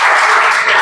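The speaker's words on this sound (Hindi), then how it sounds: "मैं चाहूंगा एक बार जोरदार तालियों के साथ एक और बार स्वागत हो जाए" Loud, dense applause from a seated audience welcoming Shivam, a successful SSC CGL candidate, filling the brief moment as a continuous wash of clapping.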